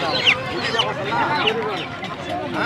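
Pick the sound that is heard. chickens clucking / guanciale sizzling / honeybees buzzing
chickens clucking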